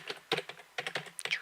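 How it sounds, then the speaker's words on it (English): Rapid typing on a computer keyboard, a close series of crisp, uneven key clicks in short bursts with brief pauses, no voices. "My typing is so very special."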